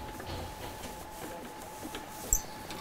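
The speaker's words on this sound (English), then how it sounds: "and wind off some tail leader" A reel of 16mm film tail leader is wound off with a faint, steady mechanical whir that stays even throughout, plus one brief soft tick near the end.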